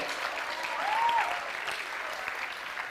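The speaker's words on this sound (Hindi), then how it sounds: "जोरों से तालियां बजाइए" Steady applause from an audience at a quiz show, dense clapping that holds evenly for the whole stretch with a brief whistle-like tone partway through.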